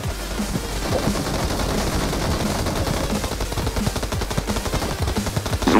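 Sustained rapid automatic fire from an M249 light machine gun in the video game Peacekeeper Elite rattles on steadily, loud and unbroken, with a heavier burst near the end and no speech.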